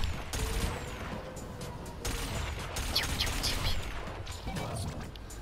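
Rapid booming cannon shots in the racing game wipEout crash out in a dense, noisy barrage, with several sharp heavy blasts standing out.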